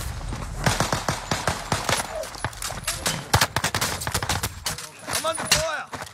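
Rapid bursts of video game gunfire crackle in dense, overlapping volleys, loud and close, with short pauses between strings of shots and no talk over them.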